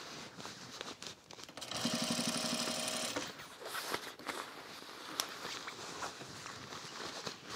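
A sewing machine stitches a bomber jacket in a short, loud burst of rapid mechanical whirring and needle chatter, framed by handling noises and fabric rustling before and after.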